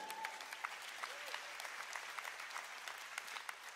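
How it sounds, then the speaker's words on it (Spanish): Congregation clapping during a church service, an even, sustained patter of applause at a faint, distant level, with a few voices calling out over it. "Denle un fuerte aplauso al Señor."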